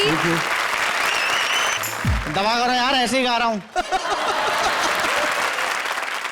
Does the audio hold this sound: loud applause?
yes